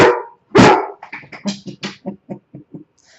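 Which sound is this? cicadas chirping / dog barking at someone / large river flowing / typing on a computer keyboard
dog barking at someone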